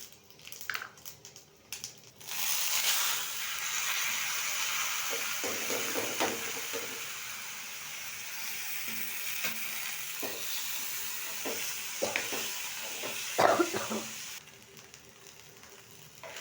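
Bay leaf, dried chili and panch phoron hit hot oil for khichuri, setting off a loud, continuous sizzle that runs for several seconds with occasional crackles and stirring scrapes, then cuts off sharply.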